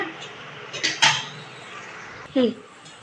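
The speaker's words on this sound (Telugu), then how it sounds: "ఇక కొంచెం మూత పెట్టుకున్నాం దీనిపైన" A metal lid lands on a cooking pot of curry seasoned with salt and turmeric, giving two short clinking knocks against a faint background hiss, with a brief clatter following.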